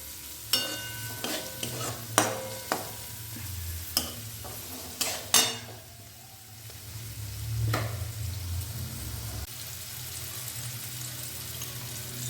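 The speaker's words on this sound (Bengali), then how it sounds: "এই সবজির মধ্যে ভাজতে ভাজতেই খুব সামান্য হলুদ দিয়ে দিয়েছি" Vegetables with a little turmeric frying for flattened rice pulao, a spoon scraping and knocking the pan in several sharp strokes over a quiet continuous sizzle, then a softer stretch of frying noise, close and without speech.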